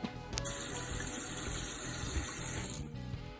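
Water runs steadily from a household tap into a sink, a close, continuous hissing splash that starts abruptly and cuts off near the end, with no voices.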